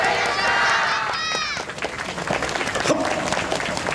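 An outdoor audience applauds and cheers after a dance performance at the Uraja festival stage in Shimoishii Park, Okayama, with dense clapping and shouts, partly mixed with a voice over a loudspeaker.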